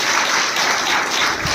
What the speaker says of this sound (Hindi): जोरदार तालियों से इनका सम्मान होना चाहिए।